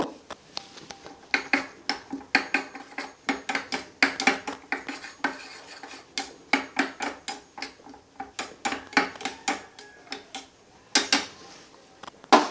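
Egg whisked with a pinch of salt and turmeric in a bowl makes a brisk, steady run of close utensil clinks and taps against the bowl, repeating rhythmically throughout.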